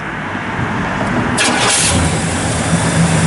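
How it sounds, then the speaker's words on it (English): A 1963 Pontiac Catalina with a 421 Tri-Power V8 cranks briefly and fires, then settles into a loud, rumbling idle close by. "Thing fires right up."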